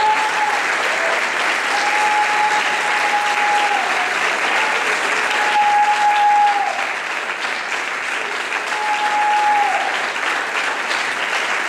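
A church congregation at a conference service claps steadily and loudly for nearly twelve seconds after a prayer. A sustained tone rings out faintly a few times beneath the crowd.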